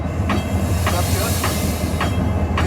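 Air brakes release on CNW 6847, a diesel locomotive at the Illinois Railway Museum, as a loud steady hiss over the rumble of the moving train, with regular clicking rail joints passing about every half second.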